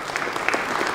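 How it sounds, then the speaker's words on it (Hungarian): Brief burst of audience clapping at a Tour de Hongrie route presentation gala, a dense steady patter of many hands over one second. "szerintem itt nagy tapsot megérdemel"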